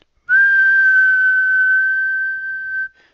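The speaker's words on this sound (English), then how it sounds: "If I do things like whistle" A person whistles one clear, steady tone, loud and close, held for about two and a half seconds with no other sound around it.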